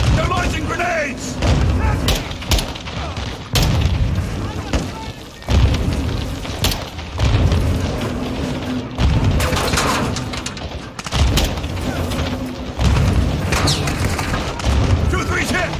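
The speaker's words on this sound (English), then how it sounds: "Incoming! Take cover! They're launching grenades!" Grenade explosions and gunfire from Call of Duty Modern Warfare 2 crash again and again in heavy booms and rattling bursts under a constant battle din, with soldiers shouting over the chaos.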